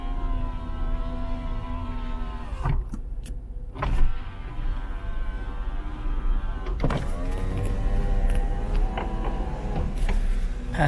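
Driver's power window on a 1989 Nissan Skyline R32 sedan running, a steady whining electric motor hum with a thump as it stops, then the window motor starting again.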